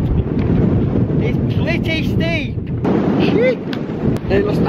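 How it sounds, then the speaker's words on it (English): Strong wind roars and buffets the microphone on a steep Lake District mountain path near the Langdale Pikes, loud and continuous throughout, with a faint voice briefly audible beneath the gusts. "It's windy as."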